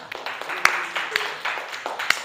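Classroom applause from students: scattered, uneven hand claps in a short, light burst, a few sharp claps standing out above softer ones.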